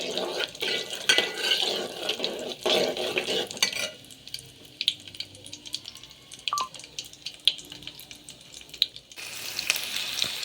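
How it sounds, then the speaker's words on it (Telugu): Cumin, mustard seeds and mixed tempering spices fry in hot oil while being stirred, a close sizzle with crackles and pan scrapes that quiets mid-way and then returns loudly. "ఆయిల్లో ఫ్రై అయ్యేంత వరకు కలపండి"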